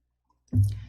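A single computer mouse click sounds close and crisp after near silence.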